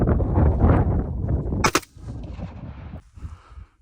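Rumbling blasts open into a single sharp gunshot crack, followed by quieter thuds and rumble, like gunfire in a video game.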